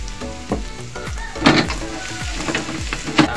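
Chopped garlic sizzles in hot cooking oil for ngohiong, a steady crackling fry broken by repeated scraping stirs of a utensil against the pan.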